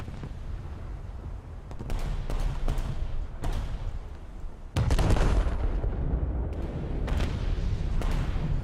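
Battleship rear guns firing in a naval combat game, a series of heavy booming salvos with rumbling tails, the loudest blast roughly midway, followed by further explosive reports and sustained low rumble.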